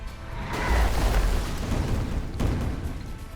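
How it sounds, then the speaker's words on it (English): A Shredder Bomb detonates in Age of Wonders: Planetfall with a deep, rumbling boom that swells, then rolls on, followed by a second lower thud. "Try to get this explosion to happen."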